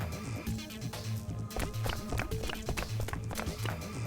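Running hoofbeats from the video game Virtue's Last Reward, a rapid rhythmic clip-clop of galloping hooves that stays steady and loud over background music.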